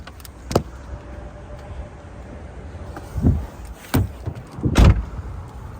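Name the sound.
opening the hood of a 2016 Hyundai Genesis coupe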